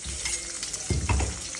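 Sliced onions sizzle in hot oil for a Nepali fish curry, a short close burst of frying hiss with a couple of stirring scrapes.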